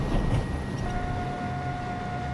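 An R142 New York subway train on the Manhattan-bound 3 line rumbles steadily with low rolling noise, and a sustained tone rises partway through.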